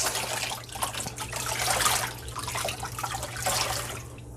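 Water splashes and trickles in uneven bursts close by as wet handspun yarn is wrung out and dripped over a basin of water, with a low hum beneath.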